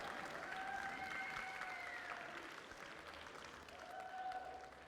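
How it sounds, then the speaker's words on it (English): A school audience applauds steadily at a live-streamed event, the clapping faint and distant with a few drawn-out cheering tones above it. "Can we give them a round of applause, please"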